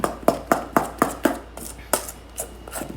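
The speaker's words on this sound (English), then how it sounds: "we mix this all up" Butterfinger pie filling being mixed by hand: a run of quick, evenly spaced utensil strokes against the bowl, close and crisp, slowing and softening toward the end, with no talk.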